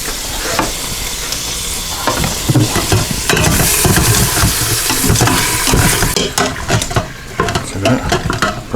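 Chunks of chili meat sizzle loudly as they brown in a pot, with constant frying crackle and the scrape and clatter of stirring throughout, close up and continuous.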